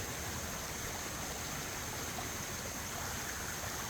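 Natural stream water flows steadily past a corn mill gate, a continuous broadband rushing wash at moderate distance, unbroken throughout with no voices.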